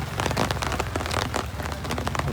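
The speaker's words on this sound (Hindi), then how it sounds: "बारिश लग रहा है बहुत देर तक होगी" Rain pattering steadily on surfaces and an umbrella near a lakeside boating spot, a dense close drumming of drops with no voices.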